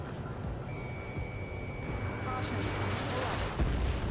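Anti-air guns open up in the jet combat game Ace Combat 7, a muffled continuous barrage of distant rapid fire beneath a steady engine-like drone, with a sustained electronic tone.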